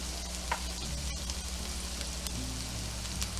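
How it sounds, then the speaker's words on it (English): Shallots sauté in olive oil for mushroom risotto with a steady, close sizzle that runs throughout, with faint stirring and no voices. "make sure they're all coated with olive oil. And shallots don't take long to cook."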